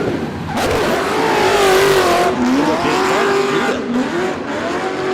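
A drift car at D1NZ qualifying in Tauranga's Baypark Stadium revs hard into corner entry, the engine rising and wavering loud and close while the tyres squeal in long sustained howls; no one speaks.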